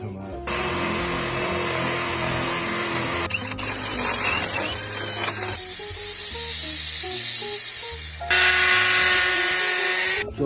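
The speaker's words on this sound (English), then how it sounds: "Drilled my holes into the Tesla box" A power drill bores holes into a Tesla wall connector box, a loud whining drone in several sustained bursts that change pitch between passes, with a brief break near the middle.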